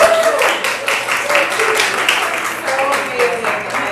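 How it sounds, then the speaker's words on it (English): Audience applause at a women's business networking gathering, a crowd clapping in a steady patter with people talking and cheering over it. "can we give Noelle a round of applause?"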